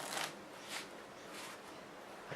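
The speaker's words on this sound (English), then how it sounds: "Okay, so the tabled riffle shuffle looks something like this." A new deck of cards is riffle shuffled on a table, giving a few quiet, short bursts of fluttering card riffles spaced apart, faint and close.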